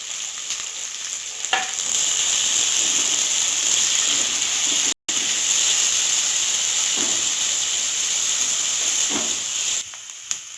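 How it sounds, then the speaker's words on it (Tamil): A large sliced onion sautés in a hot pan in a home kitchen. A steady, close sizzle hisses throughout, with a few soft stirring knocks and one brief gap. "அதை சேர்த்து வதக்கிடலாம்."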